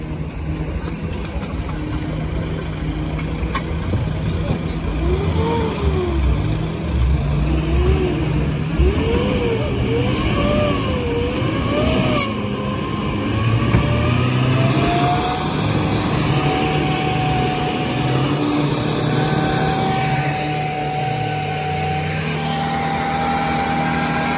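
A diesel UAZ off-road vehicle engine rumbles steadily and revs up and down repeatedly at an off-road race, its pitch rising and falling over a constant low drone.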